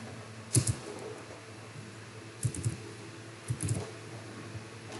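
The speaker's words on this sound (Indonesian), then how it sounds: "Baru kita ketik dot" Code is typed on a computer keyboard during a visual programming lesson, a few quiet clusters of key clicks spaced over a soft background hum.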